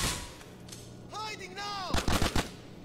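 Gunfire in the video game Grand Theft Auto IV: after a tonal whooshing in-game sound, a quick burst of several loud, close shots cracks out in rapid succession near the end.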